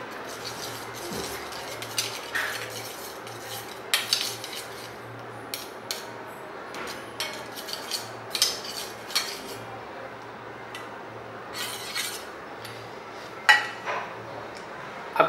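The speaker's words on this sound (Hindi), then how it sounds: "लहसुन का पेस्ट और नींबू दोनों को मिक्स कर लेंगे।" Garlic paste and lemon juice being stirred together, with a steady run of small scraping and clinking touches of a spoon against a bowl, close and fairly quiet, no talking.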